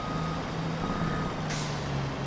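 A truck reverses in the Farming Simulator video game, its beeper sounding a steady run of repeated tones over a low engine rumble.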